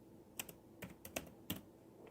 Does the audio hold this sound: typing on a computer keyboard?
yes